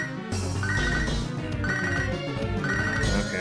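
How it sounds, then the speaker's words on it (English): A telephone rings insistently in a repeating ring pattern, loud and continuous, layered over dense game music in a Pokémon Soul Silver playthrough. "Chad, stop friggin' ringing my phone"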